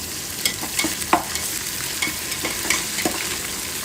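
Ginger garlic paste frying in a pan for vegetable rice, a continuous sizzle broken by repeated scraping strokes and light knocks of the spoon as it is stirred.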